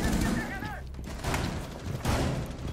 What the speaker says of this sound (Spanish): En el momento que le empieza a pegar tiros.